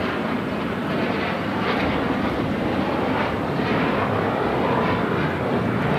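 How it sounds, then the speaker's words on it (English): A Gulfstream G650ER business jet takes off at LAX, its engines giving a steady, loud broadband roar with wind buffeting the microphone throughout. "That is a Gulfstream G650ER."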